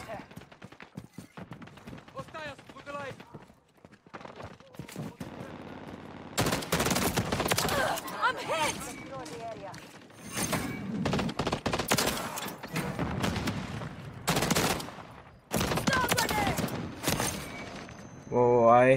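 Bursts of automatic gunfire from a DG 58 burst assault rifle in Call of Duty: Modern Warfare III multiplayer, loud repeated volleys with short gaps between them, mixed with game effects and a voice talking.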